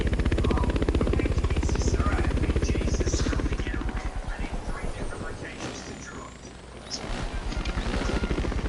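A video game helicopter engine runs constantly at full power, a loud, steady rotor thrum with rapid chopping pulses that dip slightly for a moment before returning to full strength.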